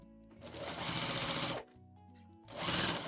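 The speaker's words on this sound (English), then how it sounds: "I'm stitching that seam down to that side" A sewing machine runs in two close bursts while stitching a face mask seam, a fast rhythmic whirring chatter with a short pause between.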